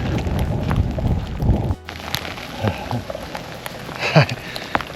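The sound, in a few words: hail falling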